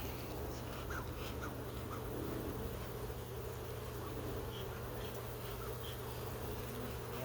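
Honeybees drone softly around an opened hive being smoked during an early-spring check, a low steady buzz with a few birds calling in the background.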